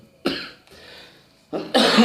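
Someone with a lingering cough coughs harshly at close range in two separate fits, the second longer and louder than the first.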